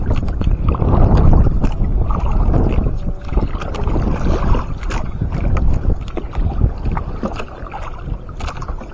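Strong wind buffets the microphone in loud, gusty bursts near a pier, mixed with splashing water from a small fishing boat moving along.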